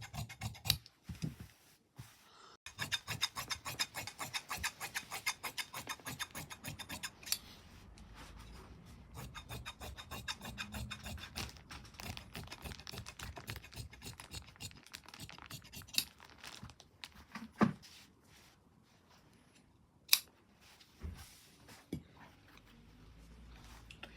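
Scissors cut through shirt fabric in a series of crisp, close snips and scratchy rustles, quiet overall with a few sharper clicks scattered through.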